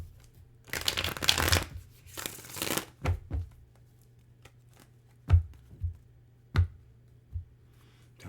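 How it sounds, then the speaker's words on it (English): Tarot cards are shuffled up close in two longer riffling bursts, followed by several short, separate taps and flicks of cards in a quiet room. "I'm going to shuffle again, okay?"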